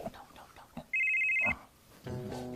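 A telephone ring in a Hindi domestic comedy scene: a single steady electronic trill lasting about half a second, loud and alone, between stretches of talk and background music.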